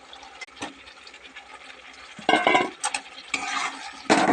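Potatoes are stirred into spice masala in a pan, with intermittent scraping and stirring strokes that get louder and more frequent, alongside a soft sizzle of frying.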